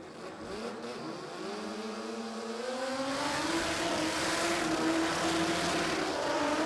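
A small Suzuki Swift drag car in the Pro Street Radials class at Warwick Dragway, Australia, at night. Its engine revs loud and close, the pitch climbing steadily over a broad roar of tyre and exhaust noise, with no voices.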